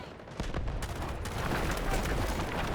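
Gunfire in a Battlefield game, a dense burst of rapid shots and heavy booms blending into continuous loud, close rattling with rumbling destruction underneath.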